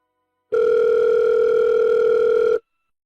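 A steady telephone dial tone hums alone for about two seconds as a call is placed from a home phone, then cuts off cleanly.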